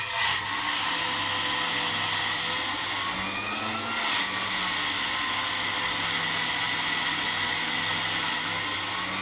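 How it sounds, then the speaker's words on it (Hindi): A grinder blending mint chutney runs continuously at a loud, steady whirring pitch, with a brief shift in tone midway, close and uninterrupted with no talking. "इसे मुसलसल ग्राइंड होने दें। कम ग्राइंड नहीं करना, इसको अच्छे से ग्राइंड करना है"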